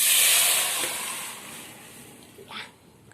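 Taro stems and elephant apple tipped into hot oil that has been frying with turmeric, giving a loud broad hiss that fades over a few seconds, with a brief spatter near the end.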